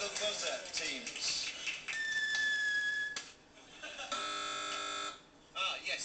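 A harsh electronic game show buzzer blares for about a second amid lively talk and background noise.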